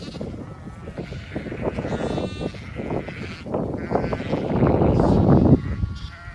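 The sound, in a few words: ewes and lambs bleating in a field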